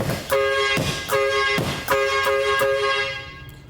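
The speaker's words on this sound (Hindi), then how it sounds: "हम एक अच्छी चीज बना रहे थे और तुमने हॉर्न बजा के सब बिगाड़ दिया।" A horn sounds in a series of close, loud, tonal honks of uneven length, roughly five blasts separated by short gaps, with nothing else heard.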